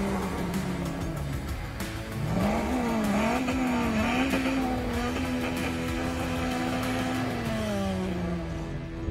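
A voice imitates a car engine, rising and falling in pitch like revving and shifting gears, sustained for several seconds.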